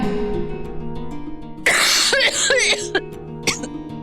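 Several harsh coughs burst out close by, a cluster of rough hacks followed by one more short cough, over a steady tonal background.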